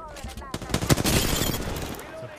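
Rapid bursts of gunfire from Apex Legends as a player shoots while airborne, with sharp repeated shots in quick succession mixed with other game sounds at moderate loudness.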